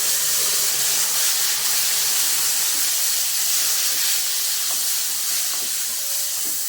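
Five ripe tomatoes, finely chopped and tossed into a hot pan with turmeric for a ground rasam, give a loud, steady, bright hiss that keeps up without a break. No one speaks.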